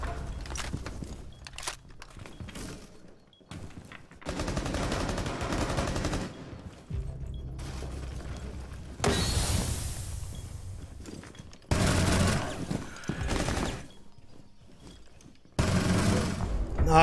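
Mira's Vector firing in Rainbow Six Siege: loud bursts of rapid automatic fire broken by short quiet gaps, with footsteps and other shots scattered between, and a voice speaking now and then.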